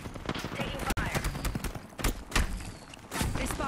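Video game gunfire, scattered shots and thumps arriving in irregular bursts at moderate loudness, mixed with game voices and background noise.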